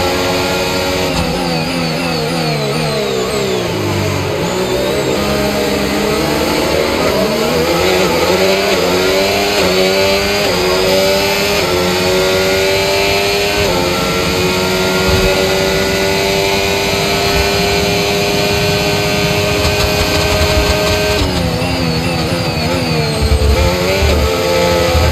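A Formula 1 race car engine in the F1 25 video game revs and accelerates hard, its high whine climbing through rising gear sweeps and dipping at shifts, loud and continuous for the whole stretch.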